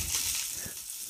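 Hot fat crackles and sizzles in a pan during Sunday roast cooking, a soft steady hiss with small pops, fairly quiet and brief.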